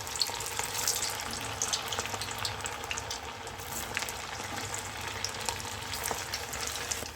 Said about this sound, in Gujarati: વડા તળવા માટે અહીંયા આપણે તેલને એકદમ સારી રીતે ગરમ કરી લેવાનું છે